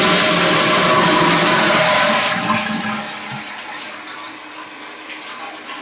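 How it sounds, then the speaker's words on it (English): An old-fashioned pull-chain toilet in a bar bathroom flushing loudly up close, a strong rushing surge that tapers into a quieter refilling trickle. "the toilet is the old-fashioned pull chain type. And we have a Veeder-Root counter. Every time I flush,"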